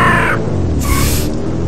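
Crows caw in the Dead End Road video game: a couple of harsh, close calls come over a steady low game ambience, with no talk.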